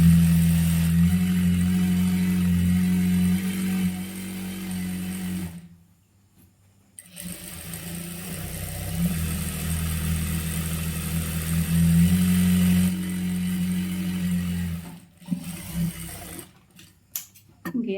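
A tailoring sewing machine stitches a churidar, its close, steady motorised whirr running continuously and stopping briefly twice before starting again.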